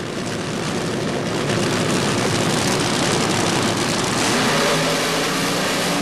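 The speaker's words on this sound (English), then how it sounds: "Burnouts completed, both cars approaching the starting line." Funny car drag racers idle loudly at the starting line after their burnouts at the 1977 NHRA Summernationals, a dense, continuous engine roar that swells slightly toward the end without any speech.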